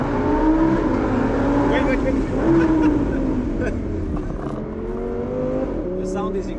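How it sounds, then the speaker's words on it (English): A sports car on its stock exhaust, its engine droning steadily close by with a smooth rising and falling tone, while people talk over it. "it sounds really nice, and it's stock exhaust"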